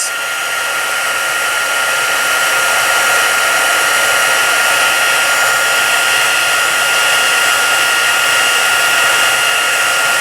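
Heat embossing tool blowing steadily and loudly to melt wax for a watercolor emboss resist on a Stampin' Up! Ornate Garden card, a continuous close whooshing hiss with no pauses.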